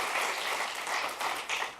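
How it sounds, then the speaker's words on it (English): A keynote audience at the Visual Studio 2015 release event applauds with a steady, even wash of clapping across the whole moment, with no voices over it. "While I appreciate your applause"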